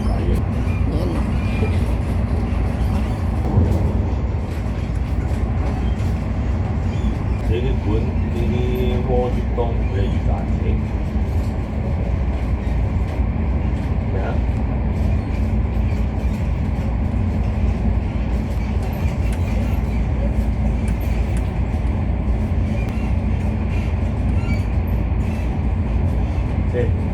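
A train runs from Tsim Sha Tsui toward Tung Chung on Lantau Island, Hong Kong, giving a loud continuous rumble and rolling rattle throughout, with people talking faintly over it.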